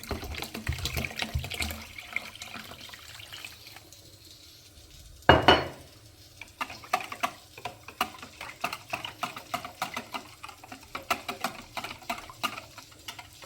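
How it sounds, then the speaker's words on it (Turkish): Water is poured into a pot of yogurt soup with rice, vermicelli and chickpeas, a brief splashing pour in the middle amid close clinks and taps of utensils against the pot. "Birazcık su ekleyelim buna."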